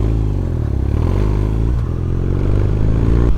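A motorcycle engine drones close and loud while racing a scooter, a steady low growl with a brief dip in the middle and rattling clatter over it.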